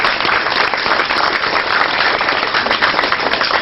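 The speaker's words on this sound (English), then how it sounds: "Hey, everybody, please give Larry a applaud," An audience claps for a man named Larry at a talk, a loud, dense burst of applause filling a few seconds without any speech.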